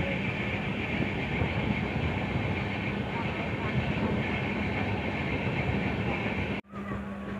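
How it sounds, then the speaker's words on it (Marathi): The Diva Sawantvadi Express runs along the Konkan Railway on a foggy morning, giving a continuous close rumble and rattle of moving coaches that briefly drops out near the end. "या धुक्यातून आपली कोकण रेल्वे चाललेली आहे कोकणच्या दिशेने"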